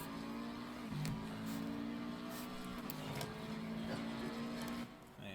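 Race car engine held at high revs down the straight at Bathurst in a racing video game, a steady buzzing tone with a brief dip and return around each gear change, fairly quiet and continuous.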